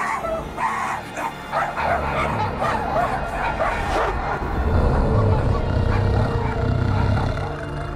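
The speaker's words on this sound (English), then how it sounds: "Why are we barking?" Cosmo, a dog in the Guardians of the Galaxy video game, barks and yips in short bursts that grow louder and busier toward the end, mixed with game sounds.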